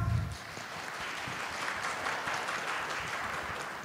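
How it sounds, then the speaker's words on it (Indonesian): Sustained applause from an audience at the launch of a digital generation acceleration movement, a dense wash of many hands clapping at moderate distance. "Boleh tepuk tangan teman-teman perempuan dong?"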